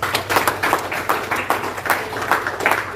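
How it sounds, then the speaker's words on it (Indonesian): Church audience clapping in a steady, rhythmic beat, loud and close with evenly spaced group claps over a low background hum. "Tepuk tangan, tepuk tangan."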